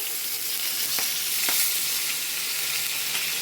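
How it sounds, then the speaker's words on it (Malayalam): Curry leaves hit hot oil in a pan while mackerel and prawns are being cooked. A loud, continuous sizzling hiss carries a few faint crackles and pops throughout, with no talking. "ഇത് രണ്ട് കരുവേപ്പില ഇട്ട് കൊടുക്കുന്നുണ്ട്"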